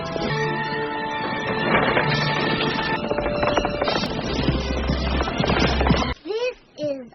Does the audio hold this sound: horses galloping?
yes